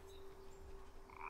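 A frog croaking in the video game Child of Light, a soft close croak over a quiet steady game tone, with faint chime-like effects near the end.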